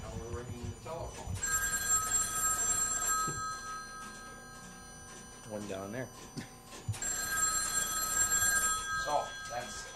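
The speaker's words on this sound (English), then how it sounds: "Now we're ringing the telephone." An old telephone bell rings in repeated bursts with long pauses between them, under people talking close by about the call going through.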